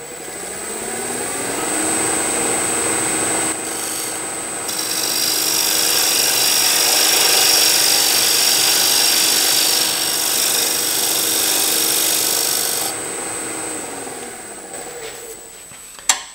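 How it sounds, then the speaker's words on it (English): Wood tenon being turned on a lathe at about 1400 RPM with a skew chisel, a loud continuous scraping hiss of the cutting edge over the motor's whine, ending in a brief knock. "take my skew chisel and refine that."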